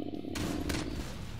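Automated turrets firing in the sci-fi game Jupiter Hell: a rapid dense burst of gunfire bursts rattling over a booming low rumble, loud and continuous for the whole moment, no speech.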